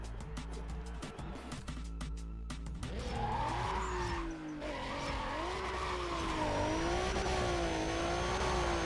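Revving VR6 engine of a car in NFS Pro Street, rising and falling in pitch with gear changes and tire screech, loud and steady throughout; faint game sounds before the engine takes over near three seconds.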